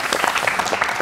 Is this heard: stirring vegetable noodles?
no